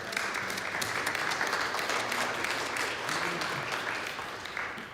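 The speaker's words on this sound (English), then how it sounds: "Applause for all of our..." Steady audience applause fills the room at a Buddhist talk and meditation gathering, continuous and fairly loud throughout, tapering slightly near the end, with a faint voice underneath.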